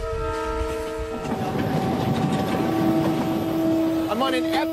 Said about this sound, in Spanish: Son los trenes más extremos del mundo.